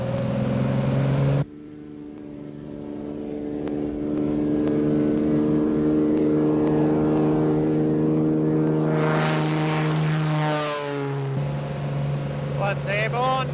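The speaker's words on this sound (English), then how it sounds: "checking all clear, and apply power for a takeoff" A single-engine agricultural spray plane runs up to full takeoff power after lining up into wind, its steady propeller drone swelling loud and close before shifting in pitch as it accelerates away, with a brief gap in the roar early on.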